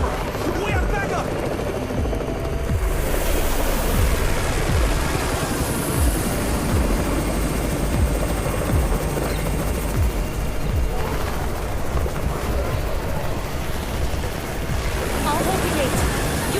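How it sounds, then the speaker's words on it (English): A loud, continuous helicopter rotor roar with wind-like rushing noise from a helicopter approaching in the video game Undawn, steady and close throughout. "It's the Raven's chopper! We have backup!"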